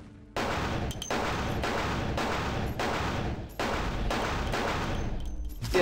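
Repeated heavy gunfire in Vampire: The Masquerade – Bloodlines hits electric coils in long, loud sustained bursts, about six of them, broken by brief gaps.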